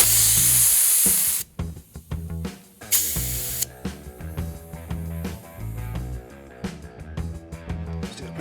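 Sharp bursts of air hiss escape from a leak in a homemade head and block pressure tester, two loud spurts standing out near the start, followed by clattering handling noises and knocks up close.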